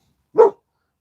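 One short, sharp dog bark, close and loud, surrounded by silence.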